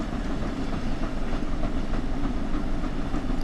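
The Flying Scotsman steam locomotive in the Train Sim World game runs along at speed, a loud, steady rolling rumble with a faint rhythmic clatter of wheels on rail, with no talk over it.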